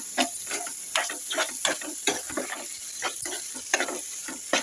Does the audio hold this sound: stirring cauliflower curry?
yes